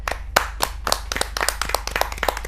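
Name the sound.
audience applause welcoming a poet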